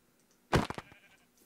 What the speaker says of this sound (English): There's some sheep and what looks to be lava pool underneath.